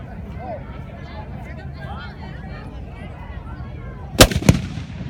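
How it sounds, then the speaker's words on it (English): A muzzle-loading cannon fires twice at an outdoor festival, two loud, close booms about a third of a second apart after a stretch of crowd murmur and background chatter. "All right, gun number one, fire. Gun number two, fire."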